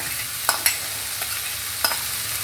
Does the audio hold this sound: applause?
no